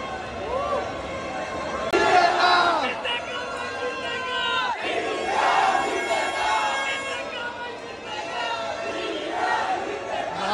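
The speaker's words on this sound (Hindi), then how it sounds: "बहुत ज्यादा भीड़ है, बहुत ज्यादा।" Outside the stadium at an India vs Pakistan cricket match, a large crowd shouts and cheers in loud, surging waves, with close-by voices talking throughout.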